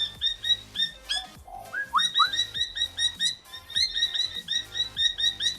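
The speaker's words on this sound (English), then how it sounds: "We got a bird right behind me." A bird chirps repeatedly and loudly nearby, bright rhythmic tweets and whistles in a steady, continuous pattern.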